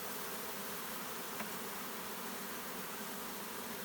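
Honeybees buzz steadily around an open hive during a hive split, a dense, even drone held at moderate level throughout with no voices.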